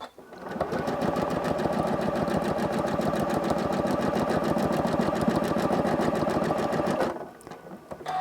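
A sewing machine free-motion quilting wavy lines runs in one steady, fast, even burst of stitching for about six seconds, then stops. It sounds close and loud, with a short stitch-locking patter before it starts.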